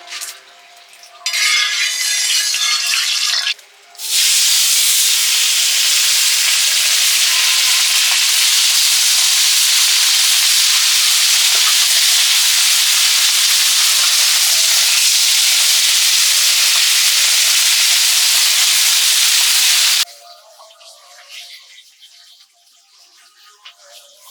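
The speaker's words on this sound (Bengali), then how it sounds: "উনুন জ্বালিয়ে দিয়েছি তাবাতে মাছ ভাজবো গোটা গোটা মাছ" Whole small fish rubbed with salt and turmeric frying in a pan over a clay stove, a loud continuous hiss and sizzle lasting most of the clip, briefly dipping early on.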